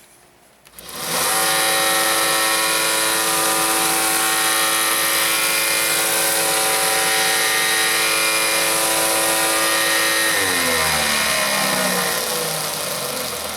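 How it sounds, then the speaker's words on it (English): A small combination disc and belt sander spins up and runs loud and steady while rounding a corner on a small model part, its pitch dipping slightly as the piece is pressed against the abrasive. "this is a little combination disc belt sander that I use a lot in modeling"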